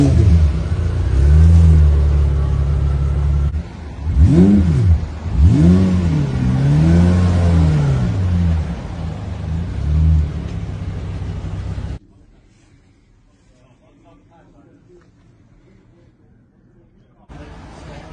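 A McLaren P1 GTR supercar revs loudly nearby in a street setting, its engine climbing and falling in several sharp pitch sweeps over a rumbling idle, with voices around it, before the sound cuts to near silence.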